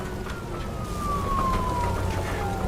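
A police car siren in a video game gives a long, steadily falling wail that runs through the whole moment, over a dense bed of game noise and engine rumble.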